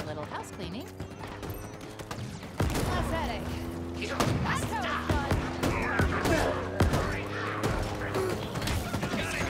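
Gunfire and impacts crackle through a Halo Infinite firefight, dense bursts with sharp hits over a steady game hum, loud and close throughout.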